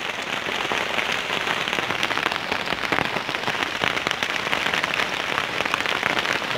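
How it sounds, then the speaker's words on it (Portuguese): Heavy rain pours steadily at a riverside fishing spot, a dense, even hiss with crackling drops hitting nearby surfaces and no talk. "Terror de chuva, ó."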